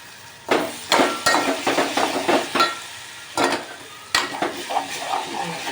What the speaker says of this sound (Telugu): ఇవి కొంచెం నూనెలో గోలితే జిగురు అన్నది పోతుంది